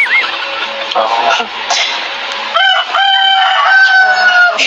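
A rooster crows loudly and close by, with a long drawn-out call. Another rooster answers it with a similar call.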